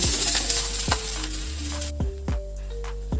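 Pumpkin and eggplant pieces hit hot oil in a pan, crackling and sizzling loudly with a few sharp clatters of the spatula, then settling into a softer steady fry.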